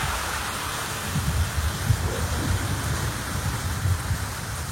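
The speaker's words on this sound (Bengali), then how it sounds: "আর সঙ্গে সঙ্গে ঝমঝমিয়ে বৃষ্টি শুরু হয়" Heavy rain pours in a dense, steady roar with low rumbling underneath, continuous and close throughout, with no voices.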